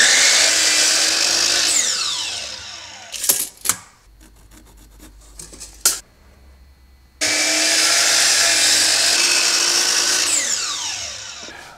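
A power saw cutting a wooden board for a DIY Connect Four game: a loud, steady whining cut, a break filled with clunks and knocks, then a second long cut, close by with no talking.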